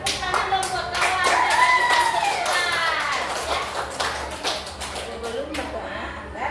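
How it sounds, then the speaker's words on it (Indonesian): A classroom of children claps together in brisk, dense applause that tapers slightly over several seconds, with children's voices mixed in. "Tepuk tangan dong buat kawan."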